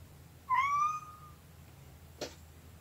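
A single clear cat meow, close and distinct, followed by a brief soft click in an otherwise quiet room.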